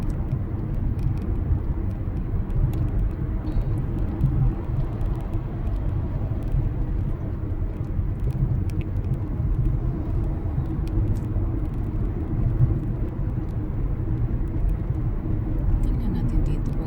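Heavy vehicles roll past on a road, a steady broadband low rumble of engines and tyres that holds through the whole stretch, fairly close and loud, with no pauses between passes.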